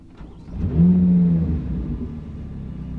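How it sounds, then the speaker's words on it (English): A C8 Corvette Z06 engine fires up already warm, a brief loud rev swelling then settling into a steady, deep idle rumble close by. "Mine's not really going to be a cold start, but it's going to be a start, I guess, because the Z06 is already pretty loud."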